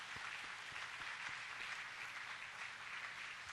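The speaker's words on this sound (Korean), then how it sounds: "우리 뜨거운 박수로" Steady, dense applause from a church congregation during a Sunday morning service, many hands clapping together at an even level throughout, fairly soft.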